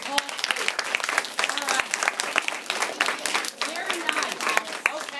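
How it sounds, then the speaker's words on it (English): An audience breaks into dense, sustained applause and clapping that fills the room, with a voice speaking briefly over the noise. "Let's give them another round of applause."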